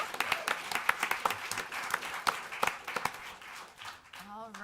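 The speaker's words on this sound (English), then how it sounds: "So one more round of applause for Alicia." A city council meeting audience claps in a steady round of applause, many hands clapping close together, fading toward the end as a voice begins to speak.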